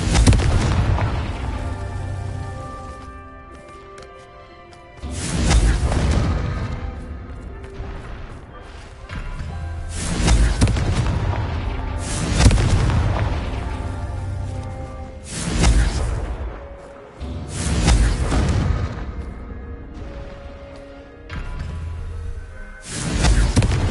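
Repeated Confringo blasting-spell explosions in Hogwarts Legacy, with about six loud, booming detonations spaced a few seconds apart, each with a sharp crack and a rumbling tail over steady game background sound.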